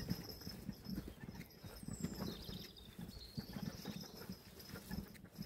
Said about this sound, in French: potentiellement, il y a le bruit de la charrette aussi